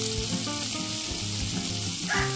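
An egg cracked onto crispy pork sisig on a hot plate sizzles loudly and steadily, with a thick continuous frying hiss and small crackles throughout.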